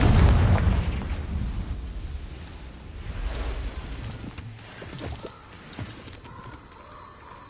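A Confringo fire-blast spell goes off in Hogwarts Legacy: a loud burst up front that fades into a low rumble, followed by scattered clattering impacts.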